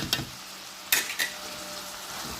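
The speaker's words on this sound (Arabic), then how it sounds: "خلط الكل مع بعضه." Ingredients with tomato paste and a medium tomato are stirred together in a cooking pot, giving a few sharp scraping clinks of a utensil against the pot over a faint low sizzle.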